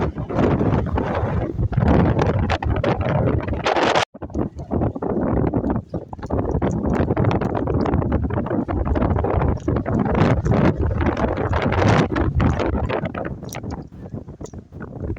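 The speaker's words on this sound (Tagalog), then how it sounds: "Sobrang lakas ang hangin dito guys" Strong wind with rain buffeting the microphone in loud, continuous gusts at Little Baguio, kilometer 90, Infanta, Quezon, with a rough rumbling roar, briefly cutting out once.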